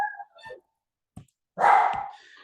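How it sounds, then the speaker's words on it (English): A pet dog indoors gives a couple of short yips and whines, then one loud, close bark after a pause. "that's my dog"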